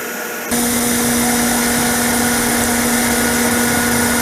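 Steady broadband hiss of coolant spray mist on a machining setup, with an underlying machine hum and a high whine, starting abruptly after a brief quieter moment and continuing evenly.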